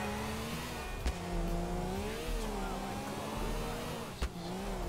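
A car engine revs in Grand Theft Auto IV, its pitch climbing and falling in steady sweeps while it stays loud and close, with a couple of sharp knocks landing over it.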